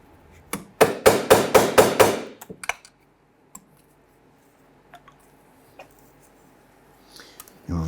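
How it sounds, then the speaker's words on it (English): A small punch is tapped to drive a rivet through on a 1997-2006 Jeep Wrangler during fuel pump replacement, giving six quick, evenly spaced metallic taps up close, then a few isolated faint clicks. "use a small punch or pick, and what we're going to do is just tap this through"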